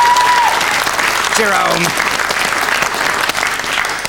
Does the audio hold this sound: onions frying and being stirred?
no